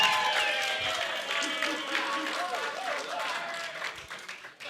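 A live crowd at a Scrap grappling event cheers and claps steadily in a broad, roaring wash, while a commentator's voice talks over it throughout.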